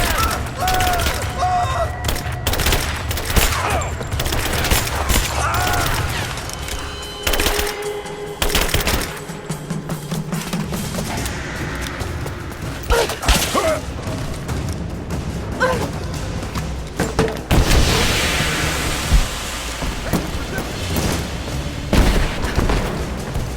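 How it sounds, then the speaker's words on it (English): Gunfire in a firefight from Rise of the Tomb Raider: dense, loud bursts of automatic weapons and single shots with occasional booms, continuous throughout, with voices shouting over the shooting. "Give me suppressing fire!"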